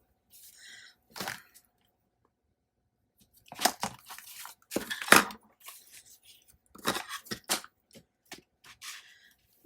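Scissors snipping the top off a paper planner piece, a series of sharp crisp cuts and crinkly paper rustles in bursts separated by quiet gaps, close and fairly soft.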